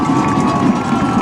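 Football stadium crowd cheering and roaring during a big third-down series in a Western State vs. Colorado School of Mines college game, a dense, steady wall of crowd noise at close range with no break.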